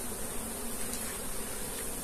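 Africanized honey bees buzz around an open hive during an inspection, a dense continuous drone close by with no talking.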